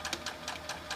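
Sewing machine stitching fabric strips for bias binding, a quick, steady run of rhythmic needle clatter heard up close for about a second with no speech.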